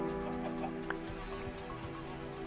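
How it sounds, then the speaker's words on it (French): Turkey gobbling in a video game, a brief bird call heard over steady game background hum with low rumbling, no clear talk. "Ah, pas mal, une dinde."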